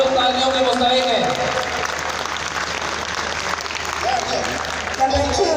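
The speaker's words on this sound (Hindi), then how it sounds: "Clap your hands together." An audience applauds at a corporate speech by a solar power company's CEO, dense steady clapping filling the room throughout, with voices and some tonal speech faintly layered over it.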